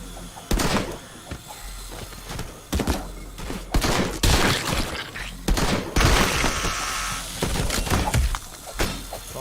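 Repeated sharp gunshots from video game guns, loud irregular bursts and single cracks, some with shattering impacts, spread across the whole stretch.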